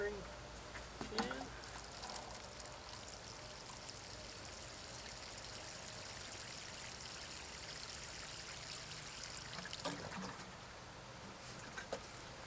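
Water trickles from a watering can onto a newly planted Early Girl tomato cutting, a steady soft pouring splash lasting several seconds, with brief handling clunks at the start and end.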